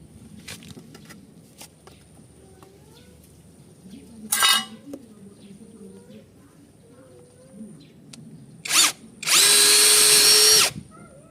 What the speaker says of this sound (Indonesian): kita akan mode pengeboran kayu